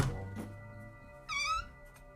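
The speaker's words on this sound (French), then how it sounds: "Oh, un petit chat, j'avais pas vu le chat." A small cat gives one rising, nasal meow partway through, fairly close and clear over faint low background hum in an otherwise quiet room.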